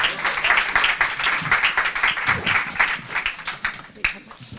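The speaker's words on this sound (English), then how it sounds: "Give them a round of applause." An audience claps in a lively, uneven round of applause at a storytelling and justice reform event, with voices talking over the clapping throughout.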